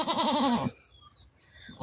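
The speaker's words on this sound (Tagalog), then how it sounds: "Ito yung pangatlong lumabas. Si bunsong kambing." A newborn baby goat gives one wavering, quavering bleat up close, about half a second long, then quiet follows.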